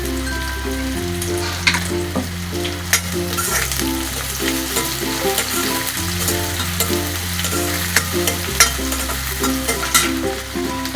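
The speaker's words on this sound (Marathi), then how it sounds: "कांदा लाल होईपर्यंत परतून घेऊया।" Onion sizzling steadily in hot oil with whole spices while cooking Konkani-style prawn rice, a continuous close crackle and hiss with stirring, accompanied by background music.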